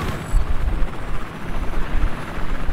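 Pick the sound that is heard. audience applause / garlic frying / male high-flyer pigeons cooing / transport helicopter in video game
transport helicopter in video game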